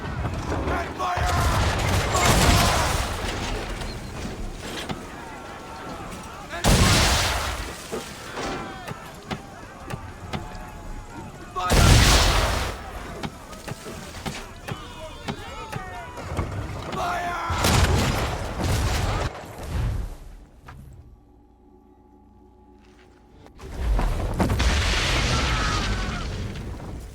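Ship cannons in Assassin's Creed 3 fire chain shot in repeated heavy broadside bursts, loud booming volleys separated by rumbling gaps and a brief lull, with battle noise and voices between them.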